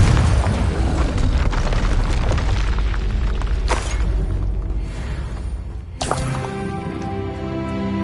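Confringo fire spell blasts in Hogwarts Legacy, a loud continuous explosive roar with a sharp burst near the end and a ringing tail, no talk.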